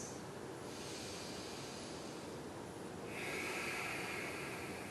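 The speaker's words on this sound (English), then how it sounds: "Take 5 deep breaths" Slow, deep breaths are drawn in and let out during a gentle yoga pose, a soft airy rush that swells and fades, close and quiet, with no talking.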